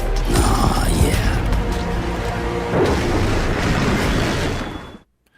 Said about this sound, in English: And then came the next explosion.